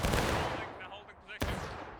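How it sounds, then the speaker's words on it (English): A single artillery cannon shot in the Civil War game War of Rights lands as a sharp, distant-sounding boom late in a rumbling battlefield din of scattered gunfire. "they did get an arty shot off"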